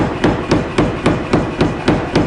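Hammer blows forging a wootz steel knife blade at an angle on an anvil, nine loud, evenly spaced metallic strikes at a steady rhythm, close and alone.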